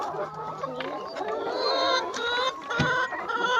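Organic egg-laying hens cluck and chatter continuously in a farm coop, a close, busy flock with overlapping calls and a few sharper squawks throughout.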